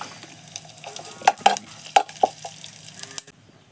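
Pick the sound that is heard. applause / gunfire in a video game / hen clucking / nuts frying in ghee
nuts frying in ghee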